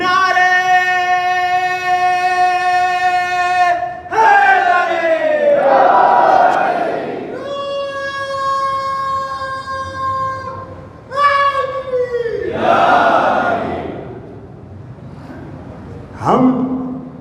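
At a religious gathering, a crowd shouts a slogan together in long sustained unison calls, followed by a loud collective response, the exchange repeating several times with brief pauses.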